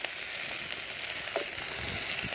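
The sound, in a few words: onions and vegetables frying in a pan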